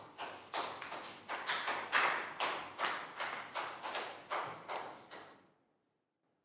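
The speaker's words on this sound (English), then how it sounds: "big round of applause for Pak Bung" A classroom gives a short round of applause for a student, a handful of claps in a fairly even rhythm that fades out after about five seconds.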